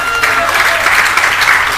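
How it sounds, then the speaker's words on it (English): Audience applause at a community meeting, a steady dense wash of clapping that stays loud and even throughout the short stretch. "Give them a round of applause."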